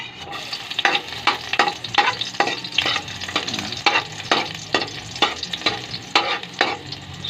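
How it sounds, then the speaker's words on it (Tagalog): Garlic sautés in a pan, a steady close sizzle punctuated by regular rhythmic stirring scrapes of a utensil against the pan, with no voices over it. "Isayin na natin ang bawang."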